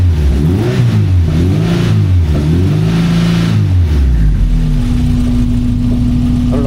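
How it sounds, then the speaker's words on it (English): A 1982 VW Westfalia engine is revved loudly and close up, its pitch swelling and dropping in several surges before settling back to a steady idle. "See what happens if I crank it."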